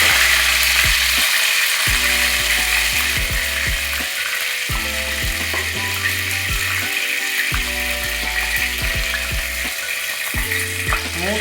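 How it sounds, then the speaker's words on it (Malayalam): Mint and coriander leaves fry in hot oil, making a loud, continuous sizzle close by, broken by rhythmic clicking and stirring clatter throughout. "എണ്ണ ചൂടായിട്ടുണ്ട്. അതിലേക്ക് കുറച്ച് പുതിന ഇലയും മല്ലി ഇലയും കൂടെ"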